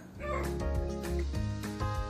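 A puppy barks close by in a quick run of several high, yappy barks that carry on for about two seconds, alone without talk.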